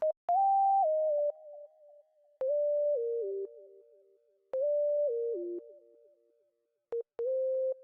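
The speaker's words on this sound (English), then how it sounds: "with the effect turned off, this is what the lead sound sounds like" A clean, pure-toned sine synth lead plays a short stepping melody, phrases separated by silences, dry with effects off and no echo tail.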